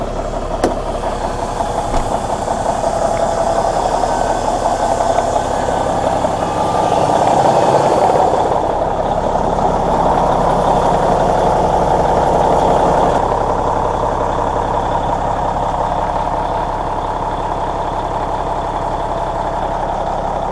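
A semi truck's diesel engine idles with a loud, steady low rumble and knocking texture that continues unbroken throughout, close by and without talk.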